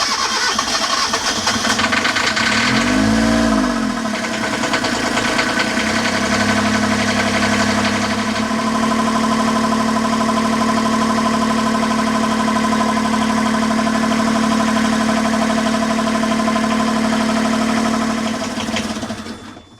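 A Volvo 2020 marine boat engine cranks over and fires up, then settles into a steady, loud idle with a low throbbing drone and faint rattles, running alone close by until it cuts off near the end.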